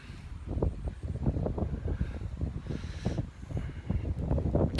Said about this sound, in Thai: อุ้ยลม